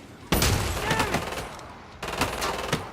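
Rapid gunfire in the video game Killing Floor 2, two bursts of fast repeated shots, loud and close, with the player faintly talking.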